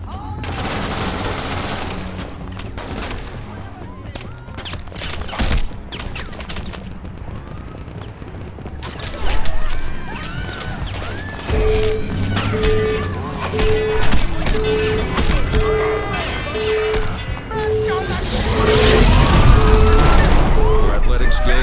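Gunfire in the video game Crackdown, with repeated rapid shots and booms over game music and effects, and a voice speaking over the action.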